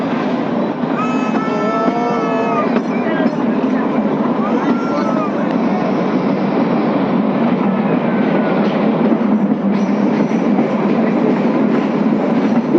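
The Kalka–Shimla toy train rolls slowly around a curve at about 10 km/h, a continuous loud rumble of wheels and carriages with high wheel squeal early on.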